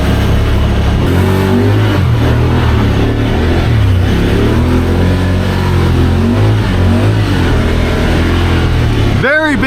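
A Honda Pioneer 1000 side-by-side fitted with a 27.5% low gear reduction, driving through deep, nasty mud, its engine droning and revving loudly and continuously up close, with someone talking over it.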